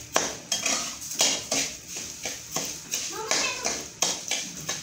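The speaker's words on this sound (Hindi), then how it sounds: "अच्छी तरह से इसको मिक्स कर लेते हैं।" A spoon scrapes and taps rhythmically against a pan as pumpkin halwa is stirred with sugar, a regular series of sharp clinks and scrapes at close range, with a voice speaking alongside.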